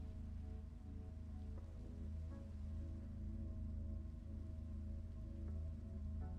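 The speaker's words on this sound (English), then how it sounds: "let's go to sleep here so the rain goes away" Rain falls in a survival video game, a steady, quiet patter with a low constant hum underneath, continuous and unchanging with no voices.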